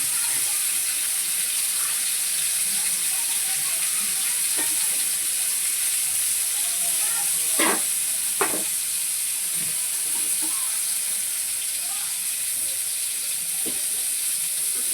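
Bombil (Bombay duck) fish fry in hot oil in a pan, a constant bright sizzle with a few sharp pops and spatters, steady and close.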